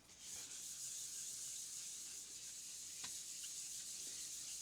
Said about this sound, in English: I know this is wet sanding paper, but I'm just going to give it a real brief rub here